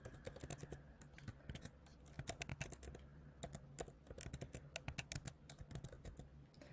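Rapid keystrokes on a computer keyboard entering an email address, a steady run of close, crisp clicks in quick uneven bursts with short pauses, heard alone without talk.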